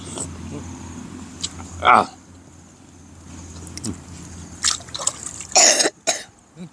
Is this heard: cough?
yes